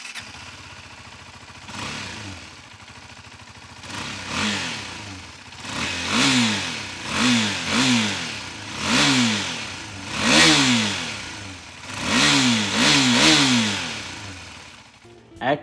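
A KTM RC 390 motorcycle engine revs repeatedly in sharp rising bursts, loud and close, each blip climbing then dropping back to idle.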